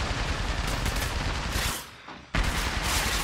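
Rapid bursts of gunfire from a battle royale firefight in Apex Legends Mobile, loud and close, with dense overlapping shots that break off briefly before resuming just as hard.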